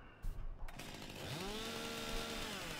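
In Farming Simulator a tree-cutting chainsaw starts with a couple of sharp knocks, then its engine revs upward into a steady, buzzing whine that holds close and loud.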